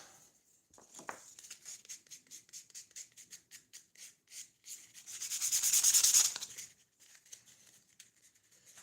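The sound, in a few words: peeling wood off with a chisel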